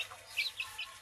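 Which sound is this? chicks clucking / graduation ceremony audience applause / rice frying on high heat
chicks clucking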